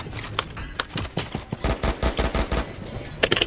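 Rapid bursts of automatic gunfire in the video game Valorant, sharp repeated shots in quick succession, with no talk over them.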